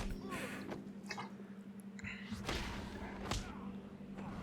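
Blows land in the Batman Arkham Asylum video game, two sharp thudding smacks with whooshes near the middle and end over a low game backdrop.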